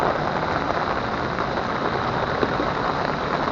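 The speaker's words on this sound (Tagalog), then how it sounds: "naabutan na naman tayo ng lakas na ulan" Heavy rain pours down on a fishing trip, a dense, steady hiss that is close and loud throughout with no talk.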